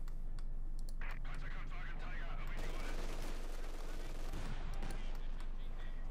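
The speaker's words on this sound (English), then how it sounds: "Mortar fire there, going on the western point." Mortar and gunfire in a Company of Heroes 2 multiplayer battle, a rapid crackle of shots and bursts that swells into a loud, dense barrage midway before easing off, with the scattered clicks of a keyboard mixed in.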